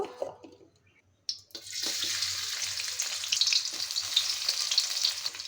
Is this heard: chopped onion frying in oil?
yes